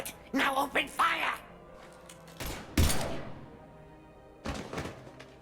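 Gunfire in Mass Effect 3 on Sur'Kesh: a few heavy thumping shots and bursts amid game effects, spaced irregularly, with a voice speaking at the start.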